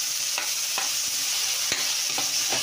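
Tomatoes frying in a pan for adobong opo, a steady bright sizzle throughout with a few soft thumps and scrapes of stirring, close and continuous, no voices.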